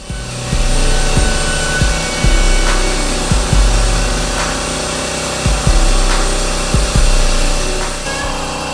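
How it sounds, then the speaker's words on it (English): A power router with a 1/4 inch round-over bit whines loudly and steadily as it cuts into a wooden workbench edge, its pitch dipping and shifting repeatedly as the bit moves along. "adding a 1/4 inch round over using a round over bit and a router"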